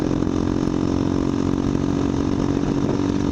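A KTM Duke 200 motorcycle engine running through an open, unmuffled exhaust pipe, a loud, steady, buzzing drone close by with no breaks.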